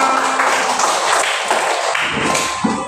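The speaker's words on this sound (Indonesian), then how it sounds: "Oke, tepuk tangan semuanya." Students in a classroom clap in a loud, continuous crackle of many hands at close range, a busy, even wash of slaps with no voices on top.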